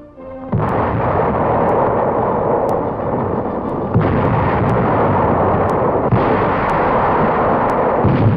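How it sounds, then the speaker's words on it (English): A naval artillery barrage during the Normandy landings, heard as a loud, continuous roar of dense gunfire and blasts with sharp cracks and heavier swells every few seconds, and no voices. "Landings are made under a naval barrage."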